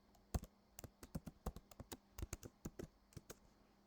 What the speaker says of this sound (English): I have to type my password.